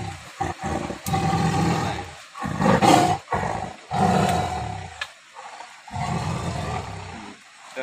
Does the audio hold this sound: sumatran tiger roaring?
yes